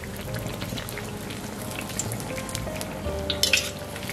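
Long eggplant slices coated in egg fry in hot oil with a steady, dense sizzle and crackle that stays close and even. A few brighter pops and spatters break through near the end, and no voices are heard.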